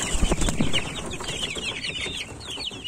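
Freshly hatched chicks from a home incubator peep continuously in high, close, overlapping chirps, with a few low thumps at the start.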